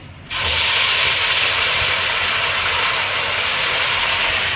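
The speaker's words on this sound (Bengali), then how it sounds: "এবার আমি এই তেলের মধ্যে আমি পেঁয়াজ বাটা দিয়ে দিচ্ছি" Onion paste dropped into hot oil with cardamom and cloves, a sudden loud burst of hissing sizzle that then holds as a steady, broad, close frying roar.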